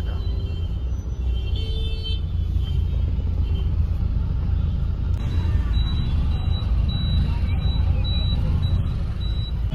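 Congested road traffic in a jam, a continuous low rumble of idling cars and trucks with a faint repeated beeping in the second half and a muffled voice nearby.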